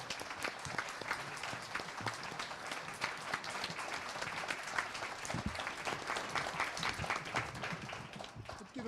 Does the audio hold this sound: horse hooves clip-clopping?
no